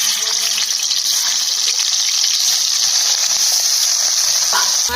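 Fish pieces coated with salt and turmeric frying in hot oil in a kadai make a loud, dense, continuous hiss that holds evenly throughout.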